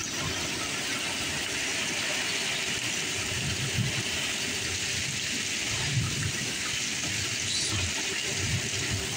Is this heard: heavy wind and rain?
yes